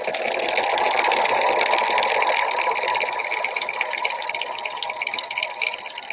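Sewing machine stitching a Kraft-Tex yoga sling, a steady close whirring drone that runs continuously through the whole stretch with slight wavering in speed and no talking.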